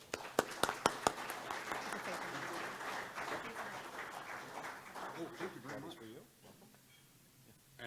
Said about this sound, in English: let's all give a round of applause for Kevin